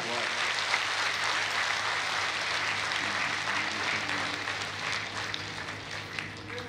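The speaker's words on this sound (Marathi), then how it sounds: "सर्वांनी हात वर करून टाळ्या वाजवायच्या आहे" Crowd clapping at a Shri Ram katha religious gathering in Nagapur, Nandgaon taluka, a broad steady wash of applause sustained throughout with a faint low hum beneath.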